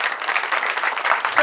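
A parish congregation at a Catholic Mass in Maruku claps in a short burst of crowded, brisk applause.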